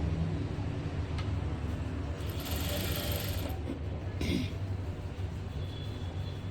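A sewing machine stitches a blouse seam with a continuous close whirring rattle, with a couple of brief higher bursts of motor or fabric noise partway through.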